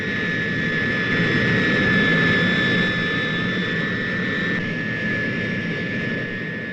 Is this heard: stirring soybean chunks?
no